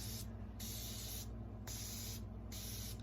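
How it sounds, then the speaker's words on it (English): A spray bottle of piercing aftercare solution hisses in steady repeated pumps, close and continuous, with no voices. "and then I just spray it"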